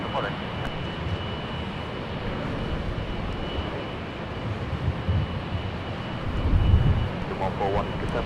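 Heavy Virgin jet airliner at LAX, a broad low engine roar that holds steady and swells near the end, with people talking over it.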